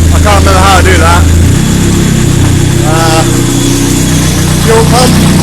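A rear-wheel-drive turbo Nissan Micra engine idles after its first start, a loud steady drone close by with a person talking over it in bursts.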